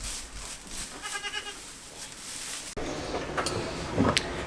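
Goats bleating in a backyard milking setting, faint bleats amid steady rustling and handling noise, with a sudden shift partway through.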